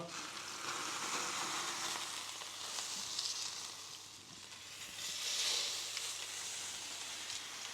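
A tomahawk steak sizzles steadily in a hot oiled pan after being flipped, a continuous close frying hiss that swells twice, with no talking.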